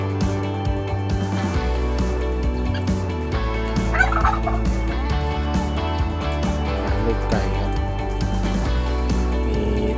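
Turkeys gobble repeatedly in a noisy outdoor flock kept with gamecocks in Ayutthaya, Thailand, their burbling calls overlapping with other fowl sounds.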